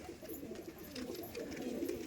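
Soft, low pigeon coos murmur continuously at low volume, with light background noise and no talking.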